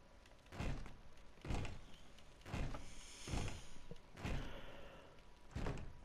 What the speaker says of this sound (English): give me some help with this door